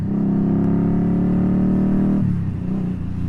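A motorcycle passes by, a loud steady engine drone that holds close for about two seconds and then drops away abruptly as it moves off.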